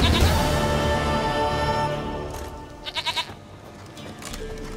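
A goat in the video game The Witcher 3 gives a short, wavering bleat of three quick pulses, clear and close over a fading music bed.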